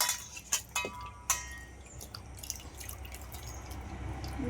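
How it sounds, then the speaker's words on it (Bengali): Water drips and splashes as a mango is rinsed by hand, with a few sharp clinks and taps against a hard surface early on, followed by quieter trickling, close and without talking. "আমটা আগে ধুয়ে নিই ভালোভাবে"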